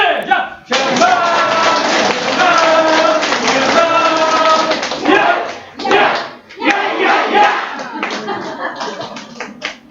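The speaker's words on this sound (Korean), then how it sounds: "박수 시작!" A seminar audience in a lecture hall in Songnae breaks into loud, steady rhythmic clapping with shouting to welcome a guest lecturer on multi-level door-to-door sales, the beat briefly faltering before resuming.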